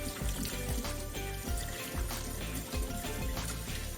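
Water pours and splashes steadily while a cleaning cloth is rinsed after wiping up stains, a continuous close wet trickle with rhythmic sloshing pulses and no talk.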